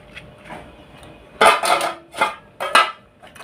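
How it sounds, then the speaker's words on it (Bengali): Chunks of potato tumble into a pan of small fish curry with several sharp clattering impacts of metal and utensil over about two seconds, loud and close, after a quiet start. "তারপরে এখানে আমি আলু দিয়ে দিচ্ছি।"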